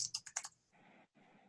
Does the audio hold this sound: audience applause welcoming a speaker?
no